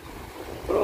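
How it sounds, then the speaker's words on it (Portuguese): Strong wind buffets the microphone in a steady roar while fishing at São José da Coroa Grande, growing louder toward the end, with a hint of water and a voice in the background. "Está ventando bastante."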